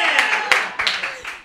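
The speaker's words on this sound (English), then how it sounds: "There's applause happening here." Audience applause at a live Catholic Creatives event, muffled and fairly distant, rising in uneven bursts of clapping over about a second and a half.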